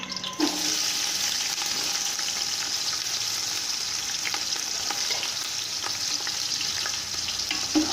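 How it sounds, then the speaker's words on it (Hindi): Onions frying in hot oil in a pot, a loud, steady sizzle and crackle throughout with a few light clicks and stirring sounds, and no talking. "ऑयल हमारा गर्म हो गया। अब हम इसमें प्याज डालेंगे।"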